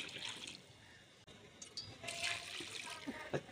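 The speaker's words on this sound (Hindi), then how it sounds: "शामिल करेंगे 2 गिलास पानी के" Two glasses of water are poured into a pot of aloo gosht (mutton and potato curry), producing a brief rushing splash and gurgle that surges after a short pause, moderately loud and close, with no talking.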